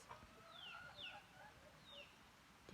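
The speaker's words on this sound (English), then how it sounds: "Do you hear that little chicken?" Small chickens peep outdoors on a farm, a few thin high calls scattered across the moment, faint and distant over quiet background noise.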